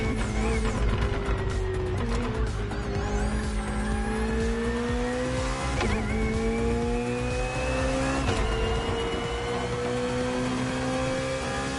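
BMW hybrid V8 race car in a short race: loud, continuous engine roar with rising revs through repeated gear changes, mixed with tire squeal and other cars throughout, with no voices.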